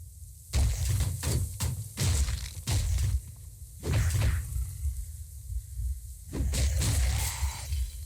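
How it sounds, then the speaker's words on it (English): Glass breaking in the game Cataclysm DDA, a run of loud, close crashing and shattering bursts in clusters with short gaps between, no voices. "Probably shouldn't have broke all that glass, should I?"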